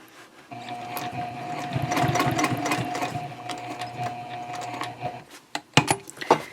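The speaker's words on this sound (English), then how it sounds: "And now I'm going to pivot and stitch diagonally across this way." A sewing machine stitches a diagonal seam across a tote bag, running steadily for several seconds with a constant motor hum before stopping, followed by a few soft handling clicks and taps close by.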